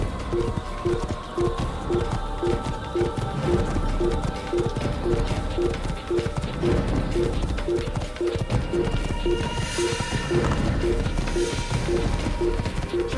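A horse gallops in Assassin's Creed, its rapid rhythmic hoofbeats pounding steadily throughout over game ambience and a clattering bustle, close and prominent, with no speech over it.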